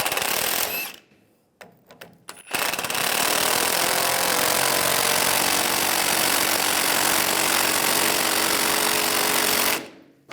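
A power tool drives down a nut on a leveling kit for a 2007-2013 Chevy Silverado 1500, a few short bursts followed by a long, loud, continuous rattling whir that stops abruptly near the end.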